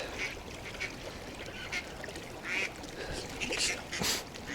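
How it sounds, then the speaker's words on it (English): Ducks beside a river quack noisily in repeated bursts, some loud and close and some overlapping, over steady outdoor background noise. "Noisy ass ducks."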